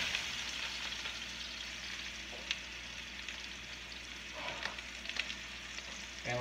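Venison searing in a hot pan, a faint steady sizzle and crackle with a few small pops and clicks, quiet and close, no voices.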